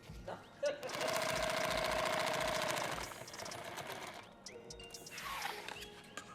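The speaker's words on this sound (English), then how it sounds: "we're gonna sew that second line in these now" A sewing machine stitches a rifle case in a fast, rhythmic mechanical run of needle strokes that starts and stops in short bursts, heard up close under a whining tone and some background speech.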